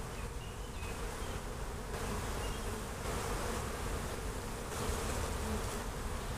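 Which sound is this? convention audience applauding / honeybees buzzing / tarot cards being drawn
honeybees buzzing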